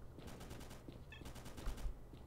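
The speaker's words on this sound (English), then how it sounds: "What's he shooting at?" Repeated gunfire bursts in the video game Stalker, rapid rhythmic shots in clustered volleys over a steady low rumble, moderately loud and somewhat distant.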